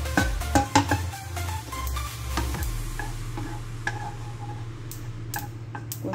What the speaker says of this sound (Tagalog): At isasangag natin ng konti.